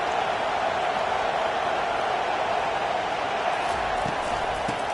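Stadium crowd in an NCAA college football video game roars as a dense, steady wall of noise, loud and unbroken throughout, with a few faint thumps near the end.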